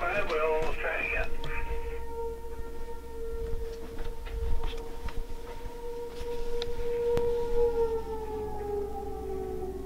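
A fire siren test coming through a radio, with a sustained wailing tone that slowly falls in pitch, underneath radio chatter and static bursts.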